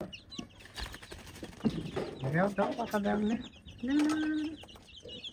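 Chicken chicks cluck and cheep nearby in short bursts, with some wing flapping and a person talking quietly in the background.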